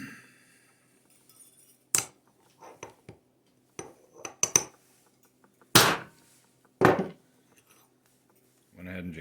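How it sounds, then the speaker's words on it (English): Hammer striking a metal punch to cut a small half-inch gold round blank, a handful of sharp, ringing metallic hits spaced apart among lighter clinks and handling noises in a quiet workshop. "So I'm just going to take a good old whack with the hammer here"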